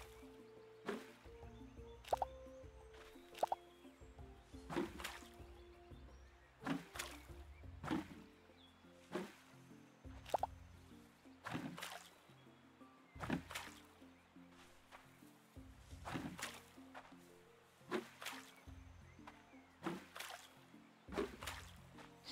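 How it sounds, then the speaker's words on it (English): Crops watered from a bucket in Roots of Pacha, a farming video game, with repeated short splashy pour-and-drip effects every second or two over steady background music, no voices. "It's amazing how much water this bucket holds."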